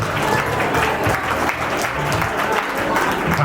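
Guests at a Samarkand wedding celebration applaud the bride and groom, with steady, dense clapping from a crowd that holds at an even loudness throughout, with no talk.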